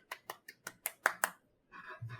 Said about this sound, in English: I'm golf clapping.